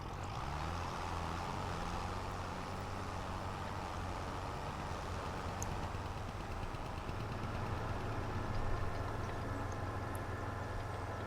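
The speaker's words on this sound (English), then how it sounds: "We haven't driven this tractor in a while." A tractor engine drives steadily in Farming Simulator 25, a constant low rumbling drone with a sustained hum that holds even throughout, with no speech over it.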